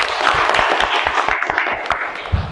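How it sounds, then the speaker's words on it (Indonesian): Audience applause at a teacher performance exam event, a steady wash of many hands clapping for a few seconds, fairly close and moderately loud. "Tepuk tangan buat kita semuanya."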